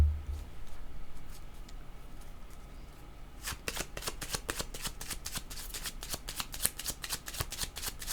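Tarot cards being shuffled: after a quiet start, a quick run of crisp riffling snaps and flicks, close and fairly soft, with no talk.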